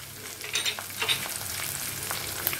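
Garlic and green chillies frying in a pan over low flame, a steady close sizzle with soft scraping bursts as a spatula stirs them around, no speech.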